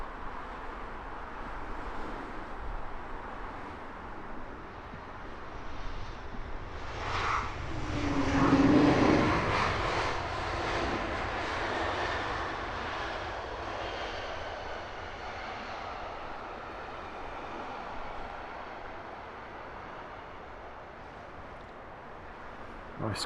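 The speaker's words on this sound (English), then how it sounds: "Nice quick deceleration from that Swiss A220, grabbing the early taxiway." A Swiss Airbus A220 lands and decelerates at Heathrow: a distant jet roar swells to a peak, then slowly fades into a low, steady background rumble.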